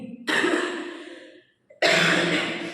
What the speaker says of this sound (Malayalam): അതാണ് എനിക്ക് കുറച്ച് ചുമയുന്നത്